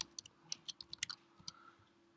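Keys tapped on a computer keyboard while typing code, a quick irregular run of soft close clicks over a faint hum, trailing off into quiet.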